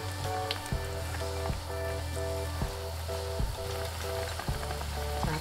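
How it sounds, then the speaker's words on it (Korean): Rice noodle soup with rice cake slices boils hard in a pot after chili sauce goes in, giving a steady close bubbling sizzle broken by a few sharp knocks or stirring clatters. "이렇게 펄펄 끓을 때 칠리소스 넣어줄게요"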